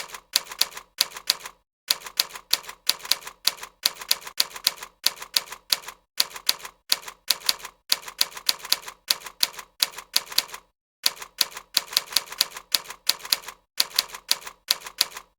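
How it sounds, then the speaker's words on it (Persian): Rapid bursts of typing on a computer keyboard during a ten-finger touch-typing lesson, crisp clicking keystrokes in quick runs separated by brief pauses, close and clear with no talking. "در تایپ ورد شما باید برای فاصله دادن کلید فاصله رو بزنید"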